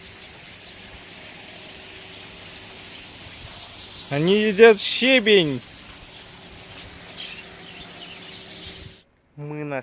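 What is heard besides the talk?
flock of parrots calling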